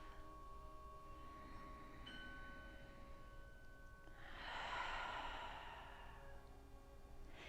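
Slow, audible breathing during seated yoga: a soft drawn-in breath, then a longer, louder exhale that fades, near and quiet over a faint steady hum.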